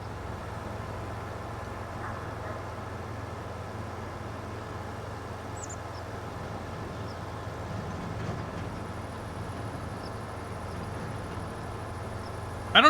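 A train rumbles past in Farming Simulator 25 as a steady low drone with a constant engine hum and faint rail noise, holding even and moderately loud throughout, ending with a short sharp sound.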